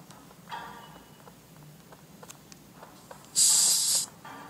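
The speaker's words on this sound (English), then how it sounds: "I'm supposed to spray this on the first floor" An aerosol spray can lets out one short, loud hiss near the end, standing out against a quiet indoor room with faint background noise.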